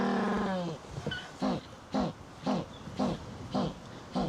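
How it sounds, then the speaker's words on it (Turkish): An African penguin brays like a donkey: a long drawn tonal call, then a rhythmic series of about seven loud, evenly spaced honking gasps, close and clear. "Sanırsın eşek anırıyor. Yani zaten bunlara eşek penguenleri diyorlarmış o sesten kaynaklı olarak."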